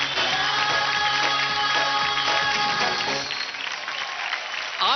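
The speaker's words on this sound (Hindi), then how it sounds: "धमाकेदार तालियां हमारे सुपर 5 के लिए।" A studio audience at a televised talent show claps loudly and steadily, a dense wash of applause that thins slightly near the end.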